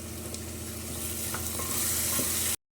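Cauliflower, peas, capsicum and garlic paste fry together for pav bhaji, giving a close, steady sizzle with occasional stirring clicks and no talking, then cutting off abruptly into silence near the end.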